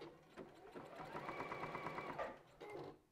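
A sewing machine stitches a zigzag stitch in short bursts, its quick rattling needle clatter starting and stopping a few times, close and fairly quiet.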